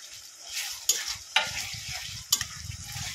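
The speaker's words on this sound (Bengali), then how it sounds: "ভালো করে এটাকে ভেজে নেব। টমেটো দিয়ে দেবো।" Ginger garlic paste and tomatoes fry in a pan for aloo fulkopi, a soft hissing sizzle broken by three sharp clacks of a spoon stirring against the pan, with scraping in between.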